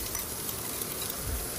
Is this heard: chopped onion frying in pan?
yes